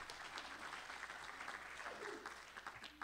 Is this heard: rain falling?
no